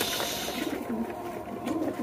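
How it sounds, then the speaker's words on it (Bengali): A male pigeon on a pigeon farm gives low, throaty coos, repeated a few times over steady background noise at moderate distance. "এই যে আমাদের ককা কবুতরটা ডাক দিচ্ছে"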